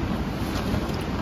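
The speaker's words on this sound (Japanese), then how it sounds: "非常に風が強いです。" Strong wind buffets a tent at a campsite at night, a continuous loud roaring rush with no pauses.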